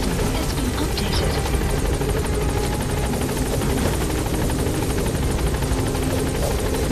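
A helicopter in the video game Metal Gear Solid V: The Phantom Pain, its rotor drone loud, close and steady for the whole stretch, with a dense, even churn and no voices over it.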